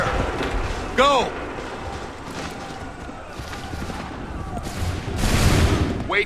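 Soldiers fire a volley of muskets in Assassin's Creed 3, heard as loud crackling bursts with a shouted order and battlefield noise around them.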